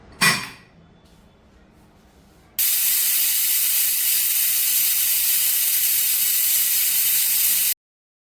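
A kitchen pressure cooker vents steam in a loud, steady hiss that lasts about five seconds and then cuts off abruptly, following a brief clatter and a quiet pause.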